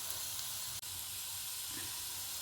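Garlic fries in hot oil with mustard seeds, giving a steady, quiet hissing sizzle throughout that is broken by one brief dropout.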